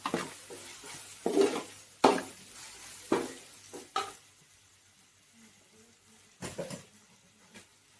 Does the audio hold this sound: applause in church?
no